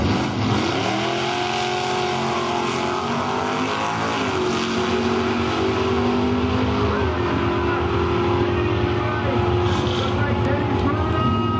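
A 1969 Camaro runs at Woodburn Dragstrip during arm-drop drag racing, its engine revving and climbing in pitch through repeated rises, loud and continuous over crowd and track noise.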